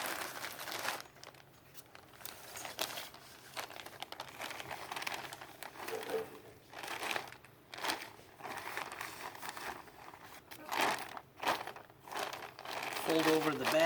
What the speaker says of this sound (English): get your project and slide it inside a bag.